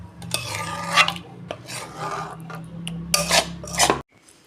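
Palak paneer scraped and poured out of a cooking pan, with close rasping scrapes of a spatula against the metal in bursts, then a sudden stop.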